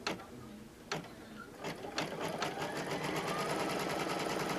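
An embroidery machine stitches around a hoop for a zippered pouch, a few sharp clacks at the start, then a fast, steady mechanical whir with rapid needle ticking, fairly quiet and close.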